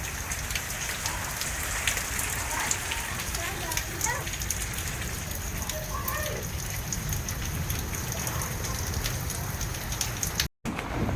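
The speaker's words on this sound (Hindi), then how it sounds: "बिजली भी कड़क रही है, तेज़ हवा भी है, और उसी के साथ में बारिश का प्रभाव भी है।" Heavy rain pours down during a storm with lightning and strong wind, a dense, steady hiss of drops close by that runs the whole length, briefly cut out near the end, with faint talk underneath.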